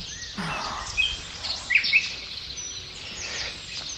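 Small birds chirp in a workplace parking lot, a few short bright calls scattered over a steady outdoor hiss, fairly faint and distant with no talk.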